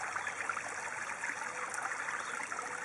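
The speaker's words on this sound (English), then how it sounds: "I think that it builds up, some air comes out, and then gurgles a whole bunch of water in" Water flowing from a hose into a hydroponic koi pond filter, a steady close splashing and trickling wash that holds constant throughout, with no distinct gurgling bursts and no voices.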